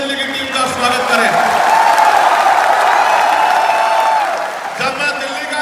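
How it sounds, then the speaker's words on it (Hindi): A crowd at a Delhi political gathering bursts into sustained, loud applause mixed with some cheering, rising quickly and holding steady for several seconds before tapering off as a voice comes back in. "एक बार दोनों हाथ से ताली बजा के दिल्ली की टीम का स्वागत करें"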